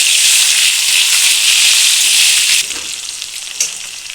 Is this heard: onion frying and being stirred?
yes